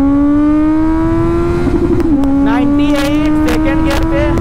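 A Kawasaki Z900 BS6 motorcycle accelerating hard in first gear, a loud, close engine whine climbing steadily in pitch, dipping briefly as the throttle shifts, with wind noise and someone talking over it.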